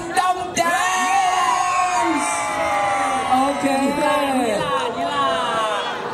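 Crowd cheering, whooping and shouting continuously at a Uniqueer stage show at The Kniverse Show, loud and sustained, with voices rising in yells throughout.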